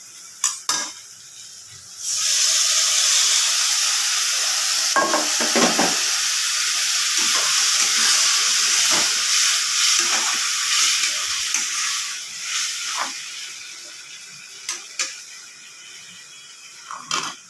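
Spices hit frying onions in a pan: a quieter stretch with a couple of clinks, then a loud, sustained sizzle broken by repeated spatula scrapes and taps against the pan.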